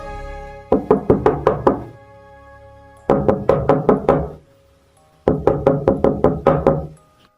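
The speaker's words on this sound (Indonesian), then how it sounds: "Selepas sholat maghrib pun ada yang ketok-ketok di kamar." Knuckles rap on a wooden door in three separate bursts of five or six quick, loud knocks each, with short pauses between the groups.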